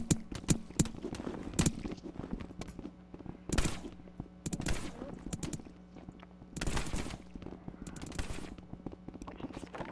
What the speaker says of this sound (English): Hey, come on, Pete, don't shoot me.